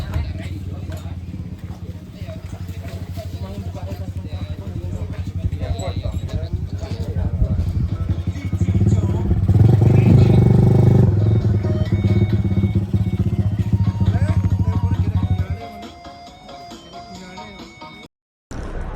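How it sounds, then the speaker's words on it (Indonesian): A Honda GL motorcycle taxi carries passengers up the mountain road on Mount Kelud, its engine a steady close drone that swells louder midway then drops away, with voices talking over it. "Oke, kita naik ojek gunung. Motornya GL."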